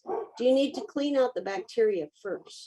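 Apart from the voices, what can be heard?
dogs barking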